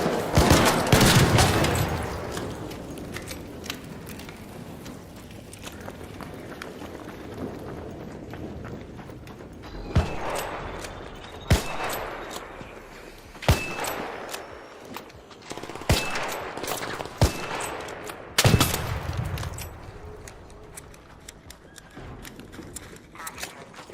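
Video game gunfire rings out as a loud opening burst, then as sharp, scattered single shots and short volleys at irregular intervals against a quieter ambient bed.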